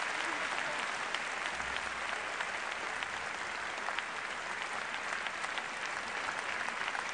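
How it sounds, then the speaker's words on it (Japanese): Steady, dense applause from a large audience fills a figure skating exhibition arena, continuous and even in loudness throughout as the crowd calls the pair back for an encore. "もう一度 見せてほしいという観客の拍手に応えて"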